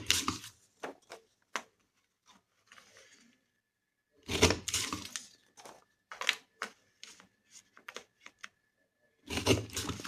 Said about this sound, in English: Punch the 4 corners.